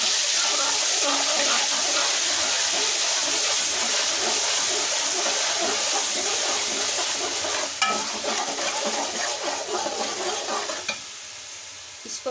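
Onions sizzle steadily in half a cup of hot oil in a pot, a loud continuous frying hiss with occasional stirring scrapes, prepared for a Lahore-style beef paye dish.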